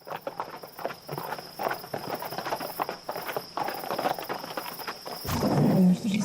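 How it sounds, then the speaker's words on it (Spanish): Horse hooves clip-clop steadily on hard ground in a walking rhythm, fairly close, with a louder rumbling shuffle near the end. "Solo se escuchan los cascos de los caballos."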